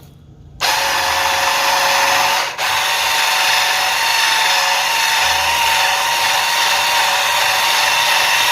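A handheld electric mixer whipping raw shea butter, starting abruptly and running as a loud, steady whirring drone with one brief dip, close up and without talk.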